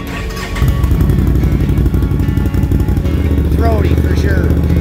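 A 2021 Can-Am Renegade XMR 1000R ATV engine rumbles up close, rising into a loud, throaty, continuous revving drone with people talking over it.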